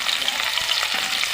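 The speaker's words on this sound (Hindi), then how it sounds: "ऑयल हमारा गर्म है, इसके अंदर प्याज डाल देते हैं।" Onion frying in hot oil in a kadai gives a dense, bright, close sizzle with soft stirring texture throughout the brief moment.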